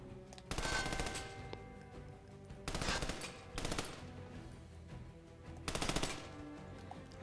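An upgraded gun test-fires in Army of Two: The Devil's Cartel in several short, quiet bursts of rapid automatic fire separated by pauses, with no talking.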